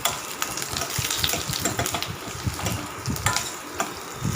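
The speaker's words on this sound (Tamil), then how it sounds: "அதையும் சேர்த்து நல்லா வதக்கி விட்டுக்கலாம்." Onions and five small cut dried red chilies sautéing in a pan for a buttermilk curry, a steady close sizzle and crackle with light stirring scrapes, no talking.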